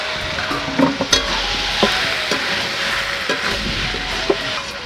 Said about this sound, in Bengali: এখন আমি আলু আর মটরটা উঠিয়ে দিচ্ছি